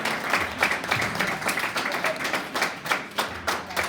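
Audience at a Spanish-language lecture applauds a woman named Georgina, a dense stretch of many hands clapping at steady volume with faint voices mixed in.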